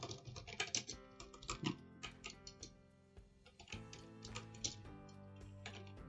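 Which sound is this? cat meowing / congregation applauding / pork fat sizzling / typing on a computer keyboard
typing on a computer keyboard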